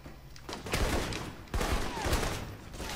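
Assault rifle fire in Alpha Protocol crackles in loud, rapid bursts with heavy low-end thumps, two sustained volleys close together.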